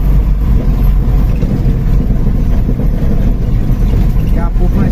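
Car engine hauling cattle, two calves and two larger bulls, on a road trip to unload them, a steady loud rumbling drone that runs continuously beneath someone talking.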